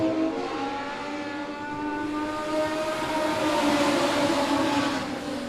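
Race cars tearing around Monett Motor Speedway just after the green flag, a loud sustained engine roar with rising and shifting pitch as the field passes, no voices over it.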